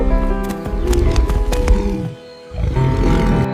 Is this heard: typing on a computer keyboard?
no